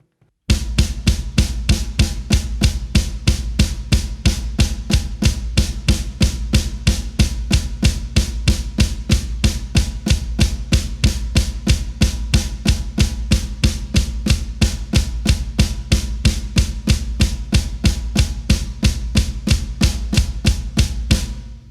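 Drum kit playing a switch blast beat, hands alternating left and right in fast, even 16th-note groupings: a loud, relentless, dense stream of hits running steadily throughout, with no talk.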